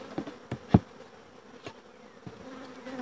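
Honey bees buzz softly around a hive lid during a hive split, a low continuous hum with a few faint taps and thumps.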